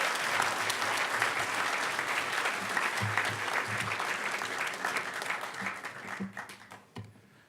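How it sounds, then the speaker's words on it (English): A large crowd at the HOPE Number Nine closing ceremonies applauds loudly and densely, the clapping holding strong before gradually thinning and fading out near the end, with a few voices in the mix. "Everybody give Greg and the speaker selection committee a huge round of applause."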